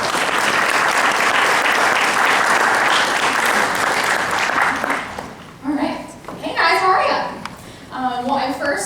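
Career fair audience applauding to welcome a speaker, a loud steady burst of clapping for about five seconds that gives way to someone talking.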